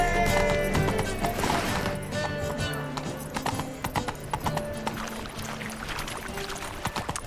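Roach, Geralt's horse in The Witcher 3: Wild Hunt, trots with steady, rhythmic clip-clop hoofbeats and a brief whinny near the start, heard close and fairly loud over a layered game soundtrack, with no talking.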